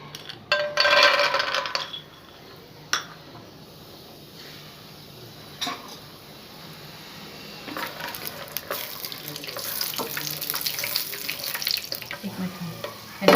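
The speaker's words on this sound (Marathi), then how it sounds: "आता आपण थोडंसं तेल घालून पहिल्यांदा शेंगदाणे थोडे फ्राय करून घेऊया।" Peanuts fry in a little oil in a pan, giving a soft, steady sizzle with occasional stirring scrapes and a brief louder burst near the start, close by and without talk.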